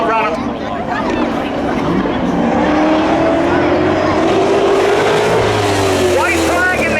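A Corvette races around Hudson Speedway in a spectator race, its engine a loud steady roar with a rising drone across the whole stretch, likely mixed with other cars, and a voice commenting over it.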